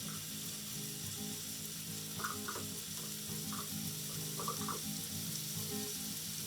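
Two cloves of minced garlic fry in butter with a steady, quiet sizzle. Small crackles and light spatters pop up here and there, with no talking over it.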